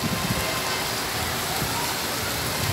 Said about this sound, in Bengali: কঠিন বৃষ্টি হচ্ছে।